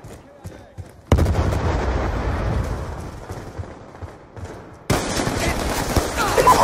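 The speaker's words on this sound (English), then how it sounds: "Friendly Hellstorm missile inbound" In a Call of Duty: Black Ops 2 match, a Hellstorm missile strike hits with a sudden loud blast, then a rumbling barrage of explosions. A second sharp burst of heavy impacts follows, after faint sounds at the start.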